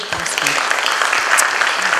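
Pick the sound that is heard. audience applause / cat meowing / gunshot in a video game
audience applause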